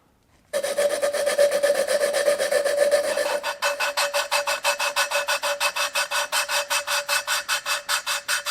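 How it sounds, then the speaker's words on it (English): An engine valve is lapped by hand with grinding compound in a cylinder head, giving a continuous gritty rasping scrape that shifts into a steady back-and-forth rhythmic grinding, close and loud with no talk. "I'll let the compound wrap around the valve."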